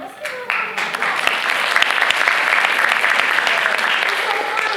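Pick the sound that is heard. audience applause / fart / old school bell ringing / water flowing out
audience applause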